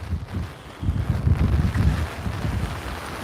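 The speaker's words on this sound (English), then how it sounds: "The wind is starting to pick up over here." Strong gusting wind in Tropical Storm Fay buffets the microphone at New York harbor. The rumble is heavy and low and rises and falls in uneven surges, with no voices.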